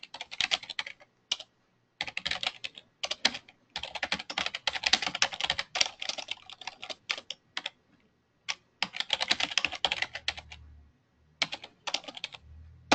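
Someone types a comment on a computer keyboard in quick, uneven bursts of close key clicks, with short pauses between runs and no talking.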